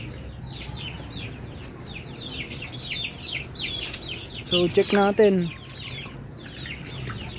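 Rhode Island Red breeder chickens cluck steadily nearby on a flooded farm after a typhoon, with wind and rain noise underneath and someone speaking briefly over them.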